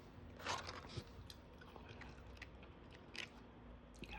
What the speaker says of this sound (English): Intense eating and drinking. Got some fries.